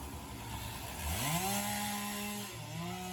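Stihl MS461 chainsaw with a 25-inch bar cutting into a huge palm tree, the engine rising steadily into a loud, sustained high whine under load, then briefly dipping and climbing again.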